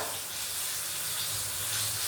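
Ripe jackfruit fritters fry in hot boiling coconut oil, giving a dense, steady sizzle and hiss throughout, close and unbroken with no talk.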